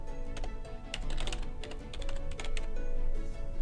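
Typing on a computer keyboard while entering a web address, a quick run of light key clicks in an uneven rhythm, close by over a steady low background hum.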